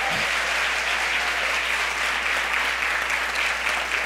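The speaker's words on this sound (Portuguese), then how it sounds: "Você pode dar uma salva de palmas ao nosso Deus por causa disso?" A congregation at a church service bursts into a round of applause, dense and loud, a continuous roar of many clapping hands sustained evenly from start to finish.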